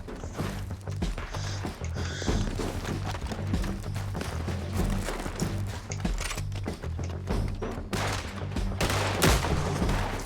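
Rapid gunfire in Red Dead Redemption 2, sharp cracks and shots snapping in quick irregular succession over a steady low game soundscape, loud and close throughout with a few heavier blasts near the end.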